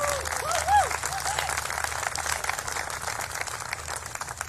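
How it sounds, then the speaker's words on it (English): A crowd at an outdoor gun legislation rally in Cleveland applauds a teenage speaker, steady scattered clapping at moderate distance, with a brief whistle early on and voices mixed under it. "Give her a round of applause."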